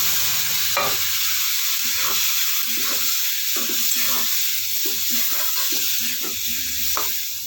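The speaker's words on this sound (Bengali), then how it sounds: "এবার একটু কষিয়ে নেব। হালকা একটু জল দেবো, একটুখানি মশলাগুলো পুড়ে না যায়।" Spices sautéing in a pan with a little water added, a dense steady hiss with repeated soft stirring scrapes at an uneven rhythm, close and moderately loud, no talk.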